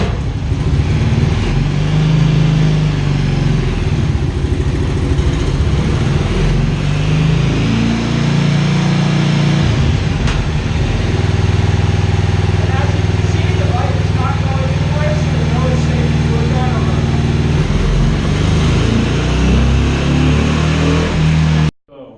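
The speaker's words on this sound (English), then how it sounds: "you're going to turn your key on, you're going to start the bike, turn it up, put it into gear" A motorcycle engine runs steadily on a dyno, with a continuous loud mid-range drone and some shifts in pitch as it revs, while voices come and go faintly underneath.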